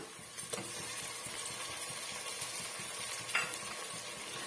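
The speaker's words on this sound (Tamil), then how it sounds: "பாருங்க வெங்காயம் வந்து ஓரளவுக்கு நல்லாவே வதங்கி வந்துடுச்சு" Onions sautéing in a pan with ginger garlic paste for a country-style guinea fowl gravy, giving a steady low sizzle with occasional stirring scrapes throughout.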